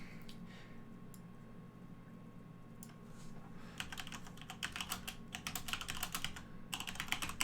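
Fast, continuous keyboard typing starts partway through and runs in dense rapid clusters over a faint background hum, close but quiet with no talking.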